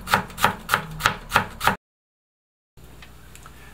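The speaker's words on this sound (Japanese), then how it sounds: "キャベツは千切りにしておきます。" A knife finely shreds cabbage on a cutting board in six even, crisp chops close by, followed by a brief silence and soft room noise.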